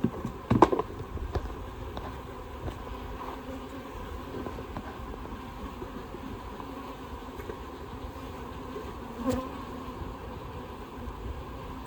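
Honey bees hum steadily around an opened hive during an inspection, a continuous low drone close by, with a few brief knocks and clicks from handling the frames, including a sharper cluster near the start.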